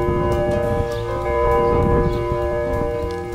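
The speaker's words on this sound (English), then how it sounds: "We have ghosts that ring bells." Bells ringing at the University of Montevallo, sustained tones that hum and overlap steadily with a little background noise.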